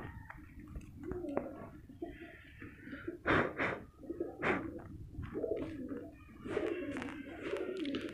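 Soft pigeon coos and low throaty calls repeat irregularly at close range, with occasional rustling and bursts of noise between them; no speech.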